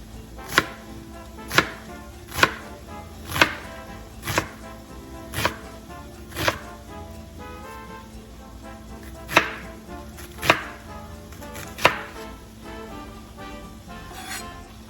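A knife chops through an onion on a cutting board in a steady series of crisp, close thwacks, about one per second, briefly pausing midway before resuming, with no talk.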